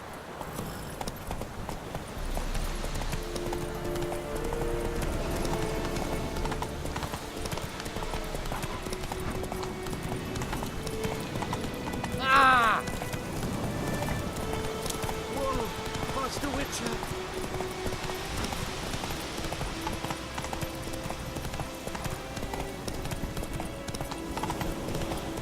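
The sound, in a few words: horse galloping in video game The Witcher 3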